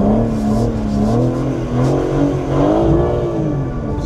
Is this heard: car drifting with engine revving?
yes